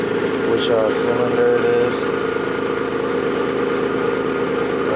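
A Nissan 300ZX engine idles with a misfire, a steady close mechanical hum and rumble with someone talking briefly over it.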